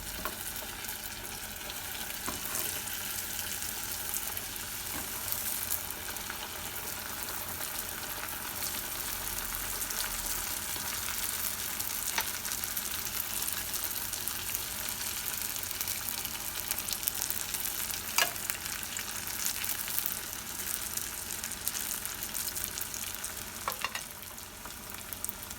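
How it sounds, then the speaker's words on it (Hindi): Vegetable spring rolls deep-fry in hot oil in a pan, giving a loud, steady, close sizzle that runs unbroken with occasional sharper crackles and no talk. "उस तेल के गर्म होने पर उसमें स्प्रिंग रोल्स डाल करके फ्राई करना शुरू करें।"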